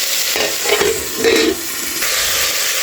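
Bones cook in a pot with rosemary and celery leaf, a strong steady sizzle swelling twice as the contents are stirred, near and without speech.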